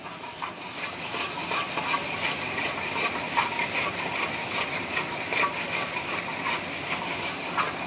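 Food boils in a kadai on the stove after salt goes in, giving a steady, loud, continuous hissing bubble with no pauses and no voices.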